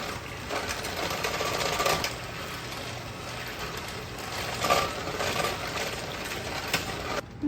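Lemon tart topping mixture being mixed with a steady whirring, machine-like drone and faint clinks, continuous throughout with slight swells, fairly close and without talk.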